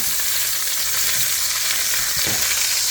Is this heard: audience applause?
no